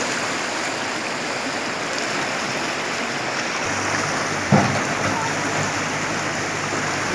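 Fast-moving flood water rushes through a stream over a road in a constant broadband roar, loud and close, with a brief thump partway through.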